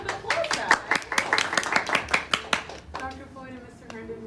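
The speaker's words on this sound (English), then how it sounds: "Let's give them a round of applause, guys." A small group claps for two guests on a school podcast, with sharp, distinct hand claps for about three seconds before they thin out and a voice begins speaking.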